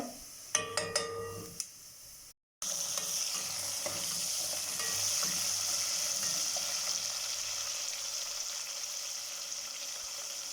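Garlic and cumin seeds sizzle in hot oil in a pan for a dhaba-style chana dal fry, a steady close frying hiss that follows a few clinks of a spoon and a brief cut.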